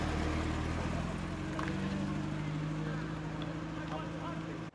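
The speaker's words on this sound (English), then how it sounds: "2002 Beamer is on its way out." A BMW 2002 fitted with an XR2 kit drives away from a car show, its engine drone holding steady tones and then fading at the end, while voices talk nearby.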